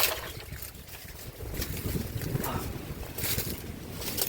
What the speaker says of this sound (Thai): ลมซัดชืดๆเลย